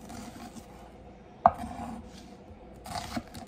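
A knife cuts medium onions into wedges for butter steak and onions: soft rasping strokes, one sharp close cut near the middle and another burst of scraping at the end, with no talking.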